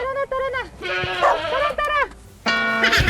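Goats bleat repeatedly in wavering, harmonic cries while being herded outdoors, several calls close together and loud, with a person shouting briefly between them.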